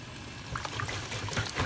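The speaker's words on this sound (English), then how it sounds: "dump the cases out of the tumbler into the water here" Brass cartridge cases tipped out of a wet tumbler into dirty water, giving a short burst of splashing, pouring and trickling with light clinks as the metal settles, close by with no talk.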